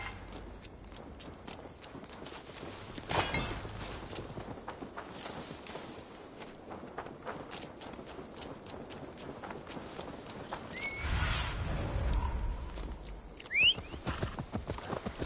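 Horse hooves clip-clopping at speed in Assassin's Creed Valhalla. A continuous, fairly faint rapid rhythm of hoofbeats runs throughout, with a brief low rumble midway and no talk.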